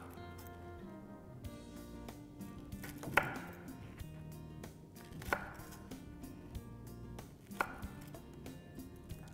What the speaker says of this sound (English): I'm just going to trim the edges.